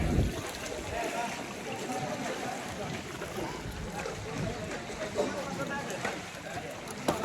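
Wooden boat being poled with bamboo through water into a deep gorge, with steady broadband water and movement noise, some wind buffeting on the microphone, and faint voices underneath throughout.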